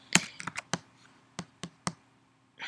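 Keyboard keys clicked while typing code, a burst of sharp close taps in an uneven rhythm with short pauses, then a softer patch of rustling at the end; nobody speaks.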